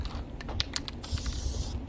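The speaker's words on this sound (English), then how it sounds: "I'm just using some Loctite spray glue." Loctite spray glue hissing from an aerosol can while a front bumper is prepared for fiberglass work; short spurts give way to a steady, close, fairly loud spray hiss with no talking.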